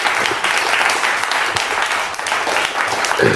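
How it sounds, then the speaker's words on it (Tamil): Loud, sustained applause rises from an audience at a retirement tribute ceremony, welcoming a speaker to the stage. The dense clapping stays steady throughout, with a brief voice near the end. "உங்கள் பலத்த கரகோஷம் ஒழிக்க அன்போடு வரவேற்கிறோம்"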